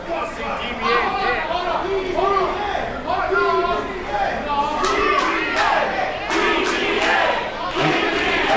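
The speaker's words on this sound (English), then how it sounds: "We got a crowd chant here for DBA." A wrestling crowd at an ACIW independent show chants for the wrestler DBA, a loud, rhythmic group chant of many voices that fills the hall and swells throughout, with some cheering mixed in.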